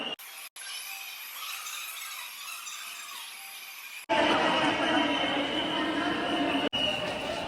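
A special train on platform four at Prayagraj station, bound for Howrah during the 2025 Maha Kumbh Mela, gives a broad rumbling, hissing platform roar, which changes sharply to a louder, lower tone partway through.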